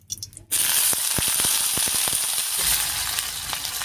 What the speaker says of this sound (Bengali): তেল গরম হয়ে গেছে, তেলের উপর দিয়ে দিচ্ছি কয়েকটা চিংড়ি মাছ।